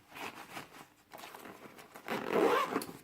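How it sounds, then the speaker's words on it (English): A zipper on a stroller organizer pouch pulled along its track, several short rasping zips building to a louder, longer pull near the end, close up with no talking. "I just zipped this off with the valuables inside."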